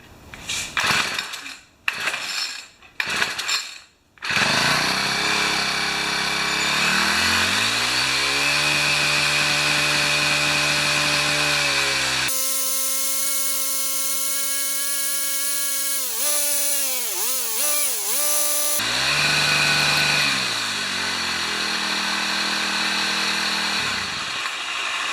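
A Yard Machine four-stroke string trimmer engine that had trouble running fires in a few short sputtering bursts, then catches and runs loudly and steadily, its pitch rising and dipping as the throttle is worked up and down.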